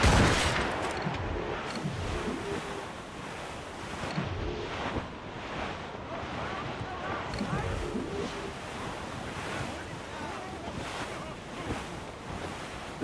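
Ship cannons from Assassin's Creed Rogue boom in a ragged volley, several heavy blasts spread over the opening seconds, then crashing surf and wind roar on across the rest of the stretch.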